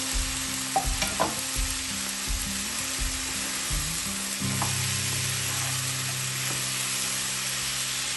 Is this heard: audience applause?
no